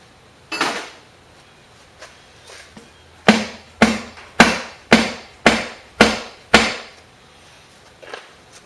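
Bolts on the intake of a Chevy 400 engine that sat for twenty years in a classic car are worked loose, with a series of sharp, evenly spaced metallic clacks and ratchet strikes, loud and close, plus a few fainter knocks.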